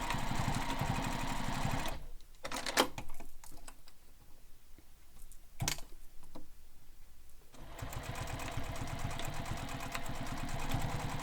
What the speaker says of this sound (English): I just like to back stitch a couple times.